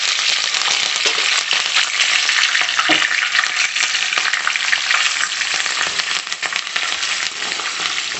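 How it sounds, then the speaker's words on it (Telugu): Curry leaves, peanuts and green chilies fry in hot oil while cooking kakarakaya chips, a loud continuous sizzle with crackling and occasional stirring scrapes, no talk. "ఇప్పుడు ఇదే ఆయిల్లో కొంచెం కరివేపాకు, పల్లీలు, పచ్చిమిర్చి వేసుకొని ఫ్రై చేసుకున్నామండి"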